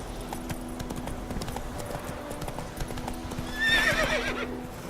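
Roach the horse galloping in the video game The Witcher 3, with rhythmic clip-clop hoofbeats that run steadily under game music and ambience, and a brief whinny near the end.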